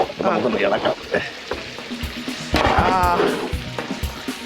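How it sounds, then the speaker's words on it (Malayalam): Chicken boiling in a pot for biryani bubbles and sizzles steadily up close, with a few stirring knocks and a voice talking intermittently over it. "ചിക്കൻ എന്തായാലും ഒരു തിള വന്നിട്ടുണ്ട് കേട്ടോ ഓക്കെ ഒരു പ്രാവശ്യം തിളച്ചിട്ടുണ്ട്"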